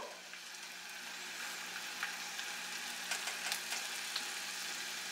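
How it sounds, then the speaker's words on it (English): Sausage and egg omelette frying in a pan on high heat, a steady close sizzle with faint crackles and pops spread throughout, no voices. "I hear the sizzling"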